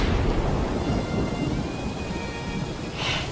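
Rain pours steadily in an animated scene, with a low rolling rumble of thunder underneath and a brief brighter burst near the end.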